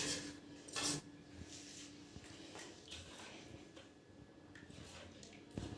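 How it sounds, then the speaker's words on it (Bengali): Khoa soaked in milk is stirred into a dish of milk and fruit, giving soft wet squishing and light scraping against a pot or bowl, with occasional clinks, quiet and close, no talking. "এই যে এবার এই খোয়াটা এখানে মিশিয়ে দিচ্ছি।"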